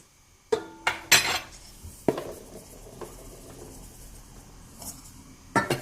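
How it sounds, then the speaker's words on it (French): Bagel dough worked in a bowl, heard as several sharp clinks and knocks of utensil against the bowl between quieter scraping and sticky mixing sounds. "Et on mélange bien pendant 10 minutes"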